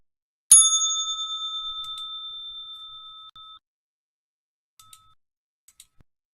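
A single bright bell strike rings out and decays steadily for about three seconds as a trading session bell, followed by a few faint small clicks in otherwise quiet surroundings.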